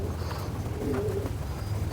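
Red-eyed pigeon cooing softly, a faint low coo surfacing briefly amid steady background hum and noise.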